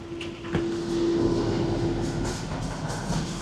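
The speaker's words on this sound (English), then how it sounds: "just waiting for this train to the terminal" An airport terminal train rolls in with a steady rumble and a sustained hum, faint clacks and rattles over the rails as it arrives close by.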